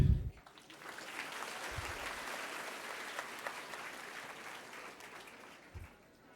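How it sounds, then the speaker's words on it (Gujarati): A college audience at a career counselling programme breaks into sustained applause, starting strongly and holding steady for several seconds before tapering off. "હવે એક તાળી તમારા પ્રિન્સિપલ અને તમારા ફેકલ્ટી માટે જે તમને અહીંયા સુધી લઈને આવ્યા"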